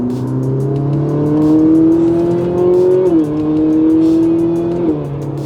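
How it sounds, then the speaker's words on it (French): A Ferrari 458 Italia V8 revs loudly and close, its tone climbing smoothly through the gears with two quick dips at the upshifts before rising again. "Je n'avais jamais eu un moteur aussi chantant."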